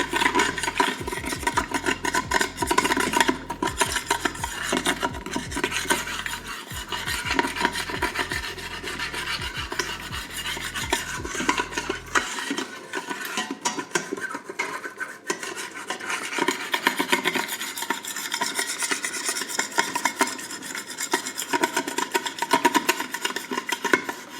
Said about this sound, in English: You just scrape all those bits up off the bottom, because those are delicious bits.